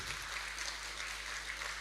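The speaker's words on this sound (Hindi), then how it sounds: "तो एक बार अपने लिए पुनः ताली बजाकर अपना स्वागत करेंगे।" An audience at an indoor conference session claps for itself, making steady, even applause from many hands that carries on without a break and without talk.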